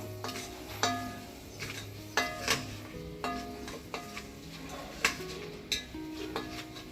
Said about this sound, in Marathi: तर इथे मी मसाला टाकलाय आणि पुन्हा एकदा चांगलं परतून घ्यायचं आहे